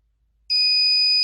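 A conductivity tester dipped in salt water gives a sudden, steady, loud high-pitched electronic beep that starts abruptly after a moment of silence and holds without stopping.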